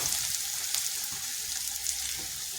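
Thin onion slices sizzle gently in a pan, a soft continuous frying hiss heard close up for a brief moment with faint low clatter underneath.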